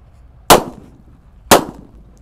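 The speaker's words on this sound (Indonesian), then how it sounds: "Ini ada mercon super whistling thunder." Two super whistling thunder firecrackers, lit together, go off as two sharp, loud bangs one second apart, each fading quickly into quiet.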